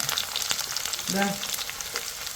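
Sliced small shallots and chillies fry in oil in a pan, making a close, steady sizzle with a brief tonal clatter partway through.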